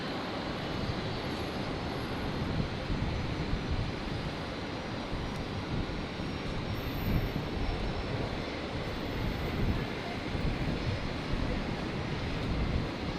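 An airliner takes off from runway 01 left at Brisbane Airport, a steady broad engine roar heard from a distance that holds evenly throughout with no voices.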